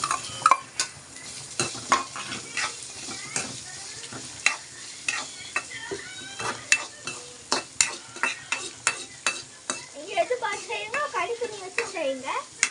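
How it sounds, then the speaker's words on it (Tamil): Onions sizzle in a pan while a spoon scrapes and knocks against it in repeated, irregular strokes over a constant low frying hiss, close and clear, with the stirring growing busier toward the end. "இப்போ வெங்காயத்தை போடு."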